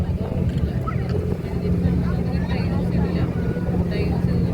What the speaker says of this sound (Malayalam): നല്ല ഓളപ്പരപ്പിലൂടെ പോകുകയാണ് നമ്മുടെ ബോട്ട്.